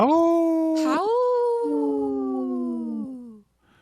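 Human voices imitate a wolf howl in a layered chorus. The howl sweeps upward, then holds and slowly falls for about three seconds before trailing off into silence.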